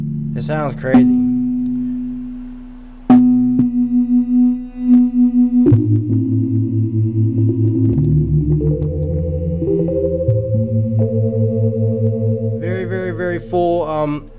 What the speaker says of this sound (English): Very full sounding sine wave.